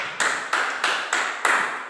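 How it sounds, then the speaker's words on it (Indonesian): Children clapping together for a classmate in short, sharp bursts, five rhythmic rounds of applause at an even pace, each fading quickly, fairly close and with no talking over them. "Tepuk tangan untuk Siti Soleha"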